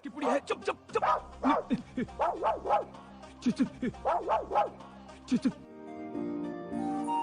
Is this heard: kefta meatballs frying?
no